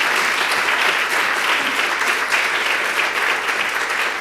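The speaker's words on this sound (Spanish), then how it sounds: "Denle un aplauso, Señor." A church congregation at a Spanish-language service bursts into sustained, dense applause that holds steady and loud throughout, with no break in the clapping.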